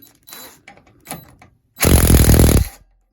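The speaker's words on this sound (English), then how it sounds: "I'm going to undo that with the impact" An impact wrench undoes the handlebar bolt on a 1977 Puch Maxi S moped: a few short taps and clicks, then a loud, close, rapid hammering burst lasting about a second before stopping.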